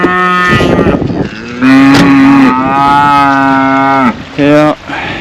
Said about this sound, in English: we got an old poor cow and her calf that has come to visit us.